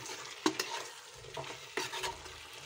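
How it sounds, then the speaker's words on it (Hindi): Fresh coriander is stirred into jackfruit curry in a pan, with a spoon scraping and clinking in a few separate strokes over a faint simmering hiss; no voices. "धनिया को अच्छे से मिक्स कर लेंगे।"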